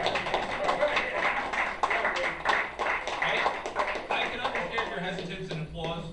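Scattered clapping and taps from an audience at a Worcester Tea Party meeting, uneven and mixed with people talking throughout.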